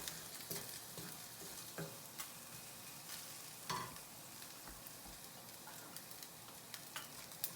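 Chicken pasta stirred and scraped in a sizzling pan, with a faint, steady frying hiss under intermittent utensil scrapes and light clinks, and no voices.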